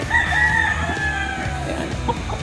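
Chickens cluck and call close by, with a rooster-like crow cutting through amid a busy mix of fowl sounds on a hot farmyard day; no speech is heard.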